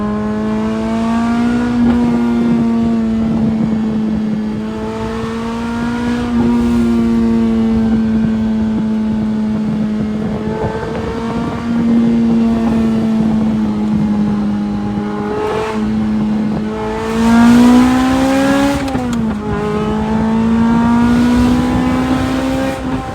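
A Lotus Elise's 2ZZ-GE engine with a stage 1 ECU tune idles steadily up close, a loud continuous hum with slight rises and dips in pitch and no voices over it.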